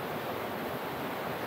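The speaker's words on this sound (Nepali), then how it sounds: "यो हेर्नुहोस् पानी कसरी झरेछ" Water pours steadily over a dam spillway on Ping Nam Stream in Hong Kong, a dense broadband roar that stays close and even throughout, with no pauses or voices.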